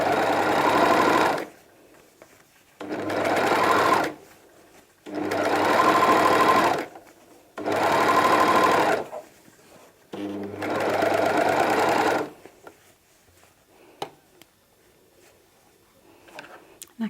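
Overlocker serger sewing fabric around corners, running in five loud, close bursts of about one to two seconds each, separated by short pauses, then falling quiet with faint handling clicks.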